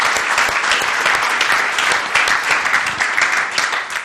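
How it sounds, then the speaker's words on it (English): An audience applauds a guest after a business success story, with dense, steady clapping that stays loud and even from start to finish, with no talk over it. "Let's give David some applause."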